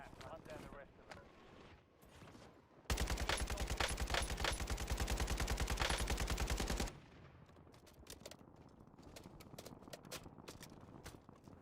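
Loud rapid automatic gunfire from a Warzone game bursts for about four seconds, a continuous fast-rattling volley set between quieter stretches of game sounds and scattered single shots.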